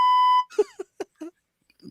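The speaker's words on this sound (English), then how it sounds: "Beep, beep," Censor bleep on a talk show: a long steady electronic tone that cuts off abruptly, followed by a few short clipped bursts of voice.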